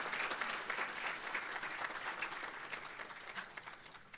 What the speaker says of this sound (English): If we can please give a round of applause for Ms. Janice Hahn.